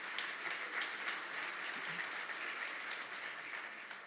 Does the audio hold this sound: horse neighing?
no